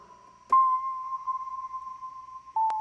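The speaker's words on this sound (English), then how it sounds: "This MIDI sound is kind of creepy when you accidentally trigger it." An eerie MIDI synthesizer tone holds steady after a sharp attack, wavering slightly, then a second electronic blip and pitch shift near the end.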